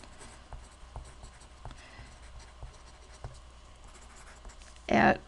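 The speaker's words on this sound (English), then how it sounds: "So let me write it down." Marker writing on a board during a math lecture on inverse functions, with quiet, scattered taps and strokes, close and faint, then one brief louder scrape at the end.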